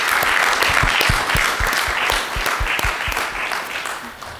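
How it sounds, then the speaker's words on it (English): An audience applauds at a student guild event, a dense, steady wash of clapping that carries on for the full stretch and eases off slightly toward the end. "Give yourselves a round of applause."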